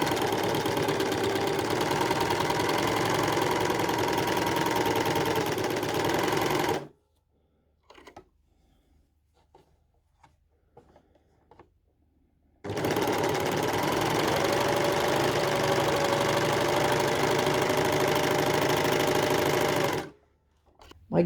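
An overlocker serger stitches along a fabric edge in two long, loud, steady bursts of rapid mechanical chatter, separated by a quiet pause with faint handling sounds.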